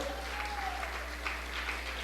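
A congregation claps loudly in unison at a Spanish-language church service, a steady dense wash of applause honoring the Lord, continuous from start to finish.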